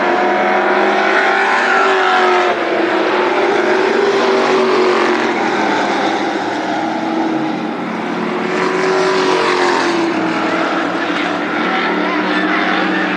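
Late model stock cars race at Berlin Raceway, a loud continuous roar of engines with pitch rising and falling as the cars pass, while a track announcer calls the race over the noise.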